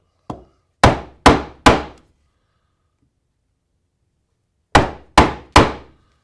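A hammer strikes a chisel held flat-side along a marked outline on a wooden block: one light tap, then three sharp, loud knocks, a long silence, and three more evenly spaced blows.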